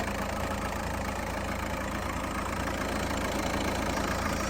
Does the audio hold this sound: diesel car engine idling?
yes